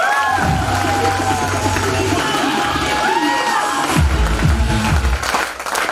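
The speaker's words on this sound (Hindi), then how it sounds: "प्लीज जोरदार तालियां हो जाए इनके लिए" An audience claps and cheers loudly at a ceremony, with crowd noise, shouts and whistles throughout while a voice speaks over the applause.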